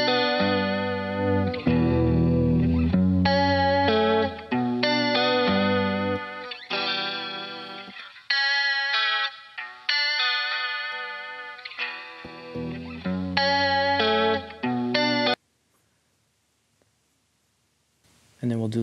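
Beat played back in Pro Tools through a telephone-style EQ, a thin band-limited mix with melodic synth-like lines and rhythmic hits, steady and prominent before cutting to silence near the end.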